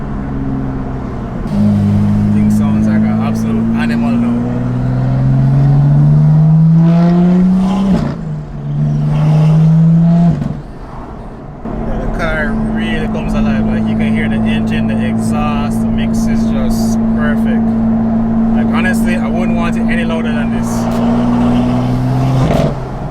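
Heard from inside the cabin of a BMW M2 with a catless downpipe, a raspy exhaust drones loudly, its pitch climbing with acceleration and dropping briefly between pulls. Voices talk over it.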